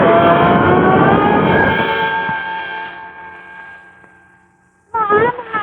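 Street traffic with trucks as a radio drama sound effect: a loud, dense rumble of engines and horns that slowly fades over several seconds, then a voice breaks in over the quiet.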